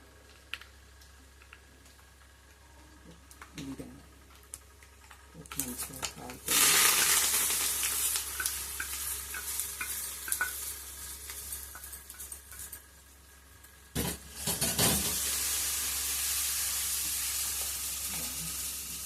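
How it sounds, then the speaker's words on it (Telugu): Hot tempering with turmeric sizzles loudly as it is stirred into brinjal chutney, with scraping and clinking under a steady frying hiss. "ఇప్పుడు ఈ పోపుని పచ్చల్లో కలపాలి"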